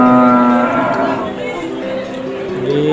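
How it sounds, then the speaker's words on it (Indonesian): Large jumbo cattle moo loudly at a livestock market, one long close bellow that shifts in pitch over about three seconds, with faint crowd chatter beneath. "Ini sapi paling jumbo nih bos."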